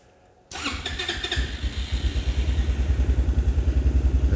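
A Linhai ATV engine catches after a brief whir of the starter, then settles into a close, loud idle that quickens into rhythmic revving pulses as it comes off idle, with mechanical clatter underneath.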